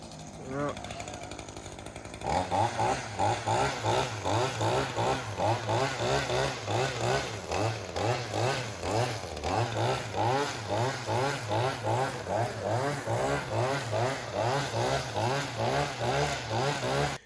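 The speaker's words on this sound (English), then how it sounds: "Just weed eat all this shit down." A string trimmer engine cuts down overgrown weeds, starting after a brief quieter moment, then running loud and close with a steady, pulsing rev as it's swept back and forth, with someone talking over it.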